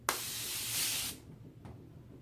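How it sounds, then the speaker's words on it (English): Australian Gold instant sunless tanner spray hisses from the can in one close, loud sustained burst of about a second, followed by a brief faint second puff. "Must be spraying too much."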